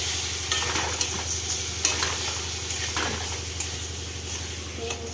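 Fish sautéing in a pan with turmeric and cumin powder, with a loud, steady sizzle close by and occasional utensil scrapes.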